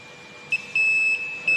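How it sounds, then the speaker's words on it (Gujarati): A clamp-on meter gives its continuity-test beep while probes touch an intact electrical wire: a steady high electronic tone sounding in a few short bursts that start and stop, close and clear, with no talking. "તો બીપ બીપ વાગશે."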